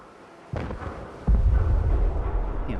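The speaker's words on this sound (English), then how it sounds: "all I hear is explosions in the city" Deep booming blasts in the Fallout 4 video game, one sharp thump then a heavier rumbling burst that lingers, like explosions going off at a distance in a city.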